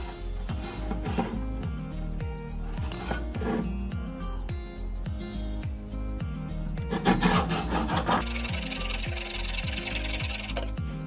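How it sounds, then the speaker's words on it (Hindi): A metal file rasps back and forth over guitar frets during a neck-bend repair, a steady run of close, regular scraping strokes with brief pauses between passes. "ये जो औजार है इसको रेती बोलते हैं, इसको यूज करना पड़ेगा और ये वाला फ्रेट जो है हम इसको अप्लाई करके इस पे घिसेंगे"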